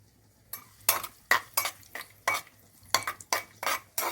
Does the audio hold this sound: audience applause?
no